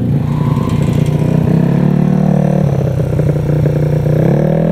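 A modified motorcycle engine idling close by, loud and gruff with a steady low rumble and a rough clattering edge, running alone without talk.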